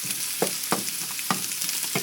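Onions and other vegetables sizzle and hiss steadily in a hot pan, with a few sharp scraping clicks as they are stirred, close up.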